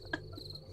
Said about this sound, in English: there's crickets from Josh's sounds